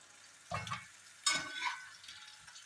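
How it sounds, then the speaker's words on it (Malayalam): Spices being stirred into hot mustard oil for gooseberry pickle, giving two bursts of sizzling and frying as they hit and are mixed, with quieter crackle in between and no talking. "ഇതിലേക്ക് ഈ എണ്ണയിലേക്ക് നമുക്ക് മസാലകൾ മിക്സ് ചെയ്യാം"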